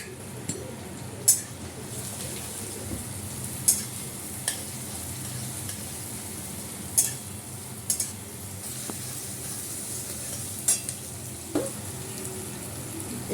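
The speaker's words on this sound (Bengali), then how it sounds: "পেঁয়াজটা একটু ভাজা হোক।" Onion with chopped carrot, capsicum and beans frying in a pan, a steady low sizzle under repeated sharp clinks and scrapes of a stirring spoon against the metal.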